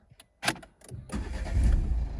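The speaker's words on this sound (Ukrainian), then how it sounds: "І автомобіль з пів оберту заводиться" A 2014 Renault Clio with a 1.5 diesel engine starts up: a few short starter clicks and a brief crank, then the engine catches and settles into a steady, rising rumble nearby.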